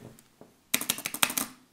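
Quick run of soft keystrokes on a membrane gaming keyboard, about eight muffled presses in a steady burst after a couple of faint taps, close and clear with no voices.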